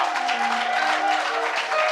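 Steady crowd applause from a church Easter conference audience honoring a woman, dense and continuous clapping filling the space throughout.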